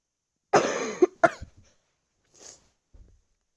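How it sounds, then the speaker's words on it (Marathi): Harsh, close coughing from a person who is unwell: one long rough cough, then a second short burst, followed by a couple of faint, brief sounds in quiet. "जरा खोकला आजारी मी."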